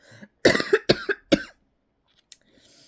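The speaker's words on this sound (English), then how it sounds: "Excuse me, I have to cough." A burst of several harsh coughs in quick succession, close and loud, followed by silence and a faint click.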